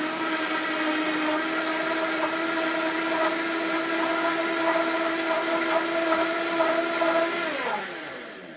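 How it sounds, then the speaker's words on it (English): A blender whirs steadily at maximum speed while spinning Coke, a loud, close, continuous motor drone with a slight wobble that holds for several seconds, then drops in pitch and winds down at the end. "turn on the blender at maximum speed"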